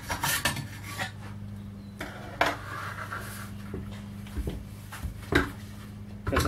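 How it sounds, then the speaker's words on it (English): A file or deburring tool scrapes along the metal window slide channel of a school bus, giving irregular rasping strokes and short metallic scrapes with brief pauses between them, close and moderately loud, with no talk. "I want to try to clean up any burrs in here."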